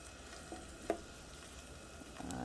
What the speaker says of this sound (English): we have a thin layer of olive oil in a nonstick pan, and I'm going to start by frying my squash